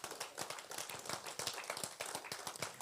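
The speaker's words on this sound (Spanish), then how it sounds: "Dele un aplauso" A church congregation claps during a Spanish-language worship service, heard as quiet, uneven hand claps scattered in loose bursts and fairly distant throughout.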